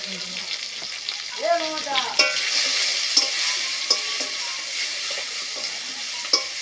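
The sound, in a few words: prawns frying in a pan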